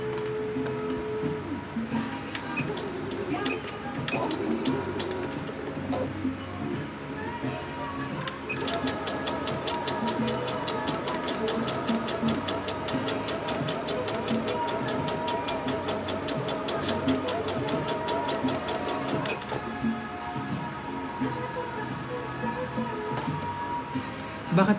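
A sewing machine runs steadily and loudly throughout, its fast rhythmic mechanical whir continuous, with a denser stretch of stitching in the middle and faint voices in the background.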